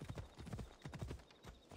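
Horse hooves clip-clop in Assassin's Creed Odyssey, a quick, steady run of soft thuds at an even trotting rhythm, moderately close and fairly quiet.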